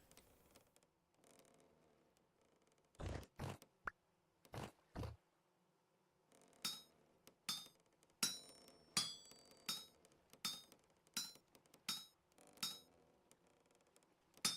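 A hammer strikes metal while smithing a planer in the survival game Vintage Story, a few dull thuds followed by a steady run of sharp, ringing clinks at a regular pace.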